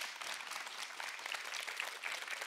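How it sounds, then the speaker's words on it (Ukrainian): Audience applause for a war veteran at a Ukrainian folk music concert, a steady, fairly distant patter of many hands clapping throughout, with no voices over it. "Оплески йому!"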